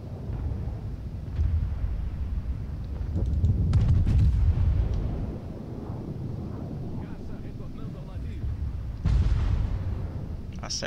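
Heavy booming main-battery fire from the Amagi battleship in a naval video game thunders in bursts with deep rumbling impacts, under excited talking.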